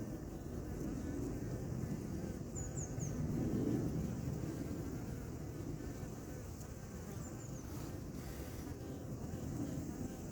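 Hornets buzz inside a trap tent at an apiary, a continuous low droning hum that swells and fades, steady and moderately faint, with a few brief high chirps above it.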